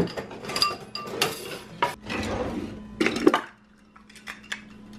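Dishware and cutlery clinking and scraping while a bowl is readied for oatmeal in a kitchen, several close, brief knocks and rubs followed by a quieter tail of light taps.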